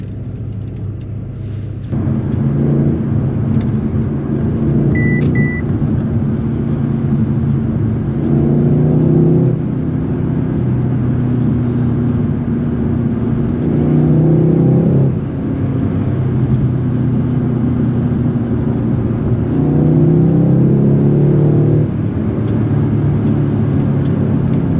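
A 2019 Mercedes-Benz C63s in Sport Plus mode, engine rumbling and revving repeatedly at mid revs with rising and falling pulls and occasional pops and cracks, loud and steady throughout.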